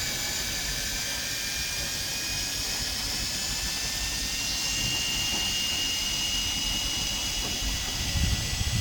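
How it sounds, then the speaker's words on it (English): A Fein ASCM 18QX cordless drill with a 4.0Ah battery runs in gear 1 to back out a screw, giving a steady high-pitched motor whine close up with no break and a slight rise toward the end. "Let's remove the screw in gear 1."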